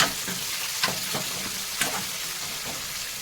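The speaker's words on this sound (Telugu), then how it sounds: "దీన్ని కొంచెం బ్రౌన్ కలర్ వచ్చే వరకు కొంచెము వేగనిద్దాము" Thinly sliced onion frying in oil in a pan over a low flame for toor dal with amaranth leaves, giving a steady close sizzle and crackle with a few louder pops and stirring scrapes, no talking.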